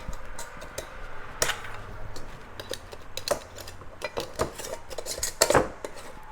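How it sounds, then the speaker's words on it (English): Metal screw bands twisted onto home canning jar lids filled with Nanking cherry preserves, producing scattered clinks, scrapes and taps of metal on glass, with a louder cluster of rattling contacts near the end. "So I use my regular canning lids, and I will put the rings on."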